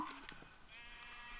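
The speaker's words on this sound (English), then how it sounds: "Everybody, look at this wild sheep." Wild sheep in a blocky survival video game giving a few short synthetic bleats near the start, followed by a steady low ambient game background.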